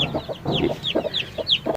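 An eight-month-old hen clucks in a series of short, close, fairly loud calls, some of them rising squawks, with no talking.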